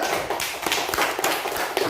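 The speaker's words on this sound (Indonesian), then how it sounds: "Tepuk tangan dulu" Classroom students clapping their hands together in a dense, sustained patter of many small claps, fairly close and loud, with no talking over it.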